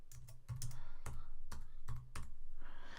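Quick typing on a computer keyboard, close and clear, a steady patter of key clicks with a few heavier strokes.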